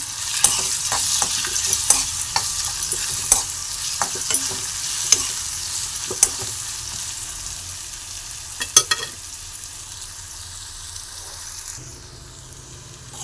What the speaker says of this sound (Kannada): ಈಗ ಇದಕ್ಕೆ ಸ್ವಲ್ಪ ಉಪ್ಪು ಹಾಕಿದ್ರೆ ಬೇಗ ಫ್ರೈ ಆಗುತ್ತೆ.